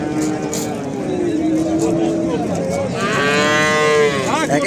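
Calves at a busy livestock market low and moo repeatedly, the bellows rising clearly above a steady crowd murmur as traders talk nearby.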